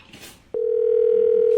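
A steady, continuous telephone dial tone starts abruptly after a brief muffled handling noise and holds loud and unbroken to the end.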